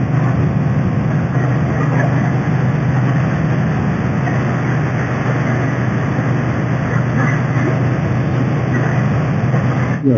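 A Triumph Bonneville's compact engine drones steadily while riding, loud and continuous with heavy wind rush and a low throbbing hum throughout.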